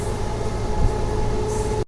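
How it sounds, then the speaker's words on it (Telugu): A diesel DEMU passenger train runs along a single line through forested country near Siddipet, heard from inside as a steady rumbling hum with a sustained tonal whine, ending in a sharp clunk. "మన ట్రైన్ వచ్చేసి డీజిల్ ప్యాసింజర్ ట్రైన్ అయితే పెడేసినారు"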